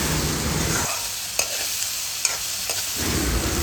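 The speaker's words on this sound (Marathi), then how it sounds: "कांदा टोमॅटोला आपण चांगलं मिक्स करून घेऊयात" Chopped onion and tomato being stirred together in a hot pan, loud sizzling that dips in the middle while a spoon clicks against the pan a couple of times.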